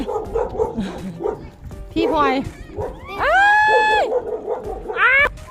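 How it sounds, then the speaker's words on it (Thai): A dog barks and yelps in high, drawn-out cries, including two long whining howls, close by and loud, while people talk over it at a roadside setting. "เด็กไม่กลัวแล้วค่ะนะคะเพราะน้องหมาเราก็มีแค่เห่านะ"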